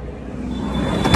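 A Suzuki Bolan van's engine idles with a steady, close, low rumble for about a second.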